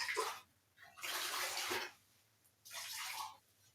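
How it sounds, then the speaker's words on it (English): Water dripped little by little from a wet sponge into mosaic grout being mixed for a coaster, heard as three close splashy bursts of trickling water with short pauses between. "use the wet sponge to just drop a small amount of water into it, little by little"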